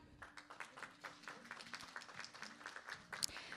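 Audience applause at the opening ceremony of an international symposium on Hwaseong Lake, a steady moderate patter of many hands clapping at a distance, continuing without a break for several seconds with no speech over it.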